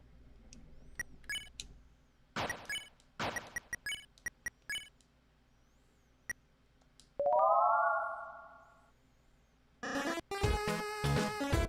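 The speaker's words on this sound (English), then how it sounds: "Your phone going off or something?" A phone rings in the video game Deltarune, a short bright chiming tone followed by a louder, dense burst of electronic ringing near the end, among scattered clicks and game sound effects.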